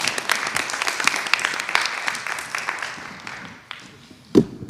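Audience applause at an academic conference session fills the room with steady dense clapping, then thins and fades near the end before a final brief burst.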